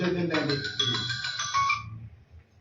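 A mobile phone ringtone plays a bright, repeating electronic melody for nearly two seconds, fairly loud and close, while people talk over it and the ringing cuts off before the talk continues.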